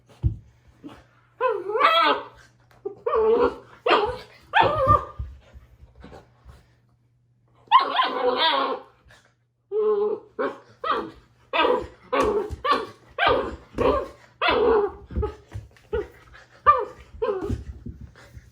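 A hyper puppy barks repeatedly while playing after eating, sharp yips and barks arriving in quick uneven bursts with short pauses, close and fairly loud, no talking.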